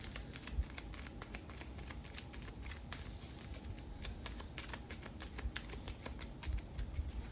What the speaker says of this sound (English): We shuffle these other objective cards in.